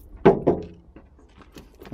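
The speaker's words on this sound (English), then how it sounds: "Listen how tinny that door is." A tinny car door on a rusting 2006 Toyota Matrix gives two quick, close metallic knocks followed by fainter rattles, alone with no talk.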